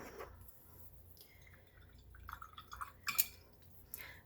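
Watercolor brush from a Wonder Forest set swished in a water cup, giving faint scattered drips, small splashes and light clinks in a quiet room.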